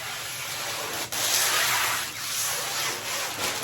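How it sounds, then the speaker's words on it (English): A soft, steady hiss of a spray bottle misting water onto window glass, in a few sustained bursts close by with no talking. "I will spray some water on the glass itself"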